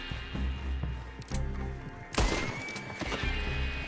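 A horse whinnies in the video game Red Dead Online amid a steady rhythmic backing of game music, with a sharp burst midway and hoof-like clopping running underneath.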